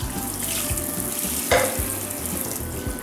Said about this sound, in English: And then I just rinsed out the last one using hot water.